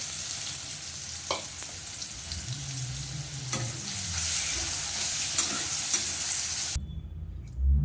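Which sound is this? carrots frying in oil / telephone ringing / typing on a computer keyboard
carrots frying in oil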